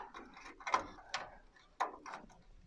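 Plastic-and-metal clicks from 16 MB EDO RAM sticks being pushed and slotted into Pentium Pro memory sockets until the retaining clips catch, four sharp snaps spread over a few seconds, close and fairly quiet.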